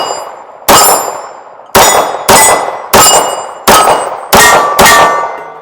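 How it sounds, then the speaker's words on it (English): Bersa Thunder .380 pistol firing full metal jacket rounds, seven loud, sharp shots with ringing decay, the first six fairly evenly spaced and the last following closely, with no talking. "Really smooth shooting little gun."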